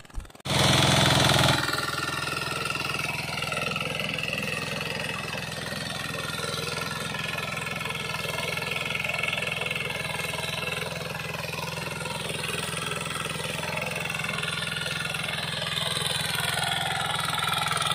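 A BCS 750 13 hp power tiller engine runs steadily throughout, a continuous mid-pitched chugging drone after a brief start.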